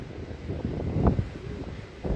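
Strong wind buffets a microphone at a seaside fort in Nazaré, Portugal, producing a low, rumbling roar with uneven gusts and thumps that rise and fall throughout.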